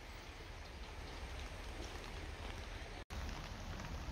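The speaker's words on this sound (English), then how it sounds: "the rain's no stopped, it's kept going." Steady rain falls at a wet wild campsite beside Loch Achray in the Scottish Highlands, a dense continuous hiss that stays even throughout, with one brief cut near the end.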